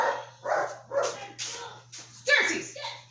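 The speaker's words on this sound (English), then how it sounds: "why is he still barking?" A dog barks several times in short bursts, close by, with a person's voice mixed in among the barks.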